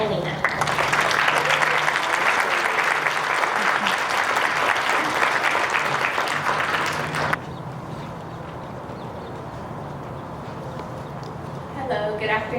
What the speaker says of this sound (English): Join me in giving a round of applause to Miss Skylie Molina